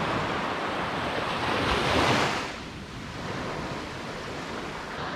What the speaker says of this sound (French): Nous sommes au bord de la plage avec Valou